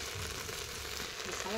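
Okra and field beans fry in oil in a pan, giving a soft, steady sizzle with faint crackle, quiet and close, with a voice starting at the end.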